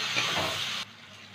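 Spice paste of chopped aromatics, cumin powder and turmeric frying in a pan with a splash of water, giving a loud steady hiss and sizzle close by that cuts off abruptly to quiet after about a second, no voices.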